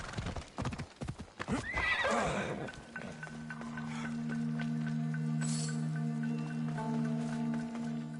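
Horses at a stable in a video game clip-clop and whinny up close, with a sustained tonal neigh following brief hoof steps and a short bit of talk at the start.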